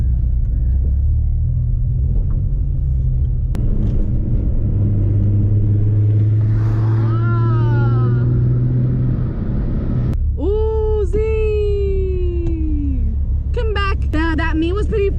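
A Nissan 350z leaving a car meet gives off a steady, loud, low engine drone that climbs in pitch as it pulls away. Rising whine-like tones and other car sounds come in near the end, and a voice can be heard at times.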